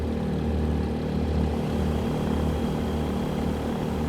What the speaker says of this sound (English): that's a nice throaty engine sounds going on there